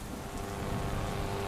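Steady rain falls at night without a break, a dense even hiss of drops on surfaces with no voices.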